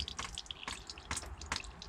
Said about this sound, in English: And I can hear water dribbling somewhere.